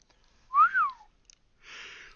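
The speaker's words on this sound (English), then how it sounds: "I had to lick my lips just to whistle" A person whistles a short two-part rising-and-falling tone, followed by a faint breathy hiss, quiet and close during a World of Warcraft session.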